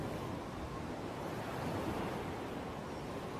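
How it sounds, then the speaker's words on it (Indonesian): Continuous rushing surf of sea waves roaring against the beach at dusk, a dense, even wash of noise with wind-like texture throughout. "Laut yang menderu,"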